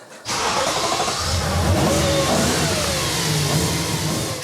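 A luxury car worth about $250,000 starts up and revs loudly, its engine settling into a steady, throaty rumble that carries on unbroken.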